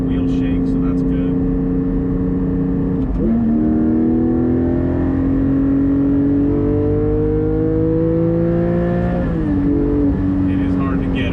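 Porsche GT4 fitted with a Soul Performance over-axle exhaust pipe, droning loud and steady under acceleration, pitch climbing through the gears with two brief dips at shifts, all continuous and close.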